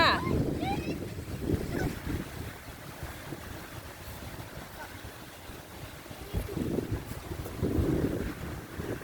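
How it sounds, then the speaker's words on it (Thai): Strong wind roars and buffets the microphone outdoors by the sea, with a faint wash of water beneath and a few brief voices early on. "ลมแรงมากค่ะ"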